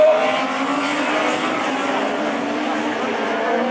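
Rallycross race with Citroën C2 and Renault Twingo cars, engines roaring steadily and continuously at close range, tires working hard, with a commentator's voice running over the engine noise.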